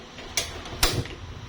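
A cooking stove being lit gives two sharp, close clicks about half a second apart, the second louder, with quiet room noise between them.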